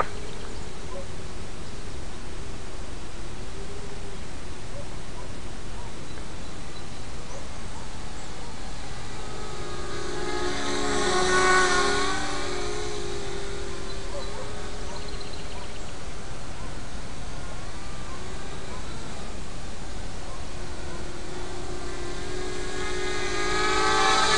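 An HK 250 racing quadcopter drone flies at a little above mid throttle, its motors and propellers giving a steady buzzing whine that swells loudly as it passes close around the middle, then fades and returns.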